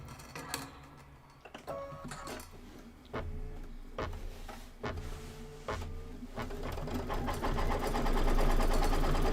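A sewing machine stitching a tack-down line runs in fast rhythmic bursts with short pauses, its motor whirring and needle clattering close and loud, building into a long continuous run near the end.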